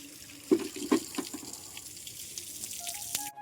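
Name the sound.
water running from a pipe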